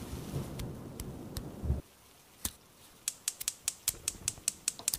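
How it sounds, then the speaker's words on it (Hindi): Rainstorm with a low rumble of thunder at first, then a sharp crack and a fast series of crisp drips or drops spattering nearby, fairly faint overall. "इतनी बारिश हो रही है, आसमान में बिजली चमक रही है"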